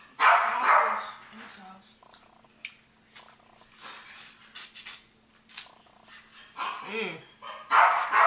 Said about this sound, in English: This dog about to get on my nerves.